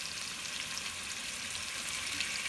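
Potatoes frying in oil with whole spices such as bay leaf, black cardamom, mace and star anise for an egg and potato curry, giving a steady close crackling sizzle with no break and no voices.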